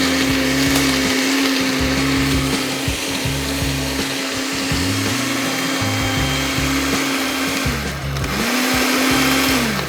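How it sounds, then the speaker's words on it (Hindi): A blender runs steadily for about ten seconds, whirring loudly as it blends a vanilla shake with condensed milk, with a brief dip in pitch near the end before it picks back up. "सो ब्लेंड किया थोड़ा सा"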